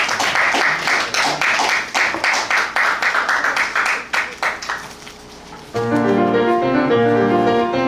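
An audience at a book concert claps to welcome a panelist, a dense round of applause lasting several seconds that thins out before gentle music comes in.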